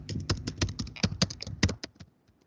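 Typing on a computer keyboard into Notepad: a quick, uneven run of crisp key clicks close by, tapering off and ending in silence after about two seconds.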